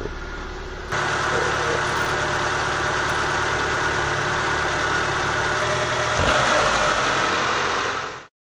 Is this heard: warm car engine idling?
yes